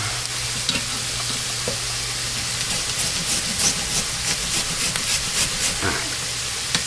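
Two rice cookers going at once give off a steady close steam hiss with faint bubbling and light clatter throughout, no voices.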